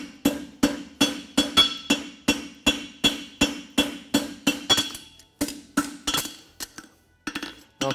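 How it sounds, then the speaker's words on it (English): A forging hammer draws out a hot steel branch on a Swiss hind shoe with rapid, bright, ringing strikes in an even rhythm that loosens and breaks into scattered lighter taps toward the end. "Now I'll carry on with my forging hammer."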